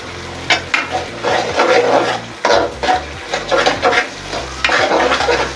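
Masala with green chillies and mint fries loudly in a pan while a spatula scrapes and stirs it repeatedly in uneven strokes, close up over a constant sizzle, with no speech.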